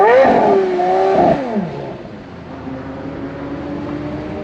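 A Porsche Carrera GT's V10 screams as it revs high, then drops in pitch and falls away to a lower, fading drone. Loud, with no talking.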